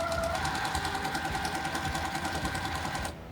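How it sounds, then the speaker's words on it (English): A sewing machine runs steadily, stitching a quarter-inch seam around the sides of quilt squares, its continuous close whirring hum lasting nearly the whole stretch before stopping abruptly near the end. "we're gonna sew a 1/4 inch seam around all sides"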